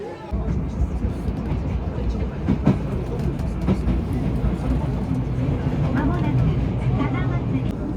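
Rumble and rhythmic clatter inside a train heading toward Hakone, Japan, continuous and close throughout, with people talking over it.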